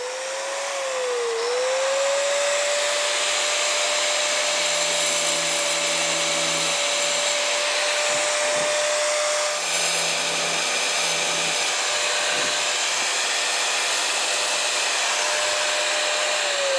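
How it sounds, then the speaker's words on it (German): An angle grinder cutting stone whines at a steady high pitch, cutting continuously with a harsh gritty roar that holds loud and close throughout. "Das machen wir halt gleich mit der Flex."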